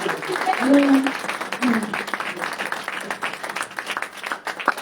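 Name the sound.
congregation applauding in church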